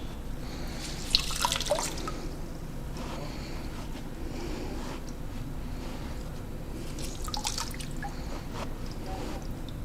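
Water drains and drips from a just-rinsed sponge-cleaned surface during homemade sandpaper making, a faint steady trickle with scattered drips and a couple of brighter splashy bursts, no voices.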